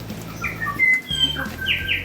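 Native birds on Tiritiri Matangi, a small pest-free New Zealand island sanctuary that is home to stitchbirds, singing close by: a quick run of clear whistles, chirps and sliding notes over a low background murmur, with no talking.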